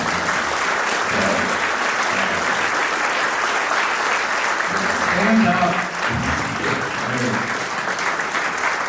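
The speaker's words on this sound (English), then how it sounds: "I'd like you to give him a round of applause" Loud, sustained applause from a large audience at a talk by a Disney Legend fills the whole stretch, with voices talking and calling out over the clapping.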